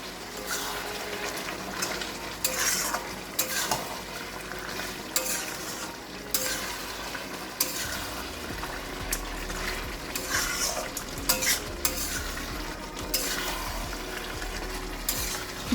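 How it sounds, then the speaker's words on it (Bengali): Mutton pieces being stirred and fried in oil for kosha, a continuous sizzle with repeated scraping strokes of a spoon against the pan, close and steady. "পনেরো মিনিট ধরে এটা কষাবেন যতক্ষণ না তেল বেরোবে।"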